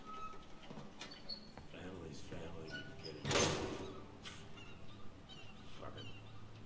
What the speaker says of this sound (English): Open the door, Ali.